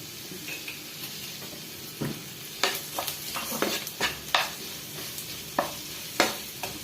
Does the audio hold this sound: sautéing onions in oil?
yes